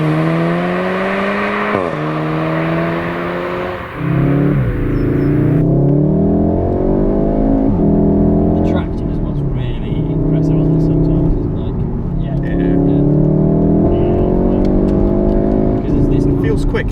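A turbocharged hot hatch, either a BMW M135i or a Golf R, revs hard while driving, its engine note rising repeatedly through the gears with brief dips at shifts, loud and close from inside the cabin.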